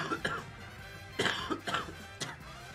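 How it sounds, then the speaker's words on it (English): Someone coughs a few times in short, dry bursts, with a throat clear in between. The sound is close and fairly quiet and comes at an uneven rhythm. "I just have a little bit of a cough every now and then"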